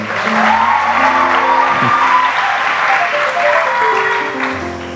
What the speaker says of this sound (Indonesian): Kasih tepuk tangan buat Darren